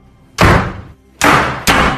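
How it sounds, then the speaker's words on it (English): A door slams shut with three loud, sharp bangs: one near the start, then two close together near the end, each dying away quickly. "All of a sudden, the door started to shut."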